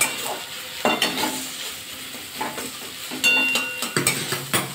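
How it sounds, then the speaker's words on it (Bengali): A spoon stirs grated coconut frying in a pan while vegetarian Bengali kochu shak is being cooked, making irregular scraping strokes over a soft, continuous sizzle, close and clear with no talk. "নারকেলটা নাড়াচাড়া করে দিলাম"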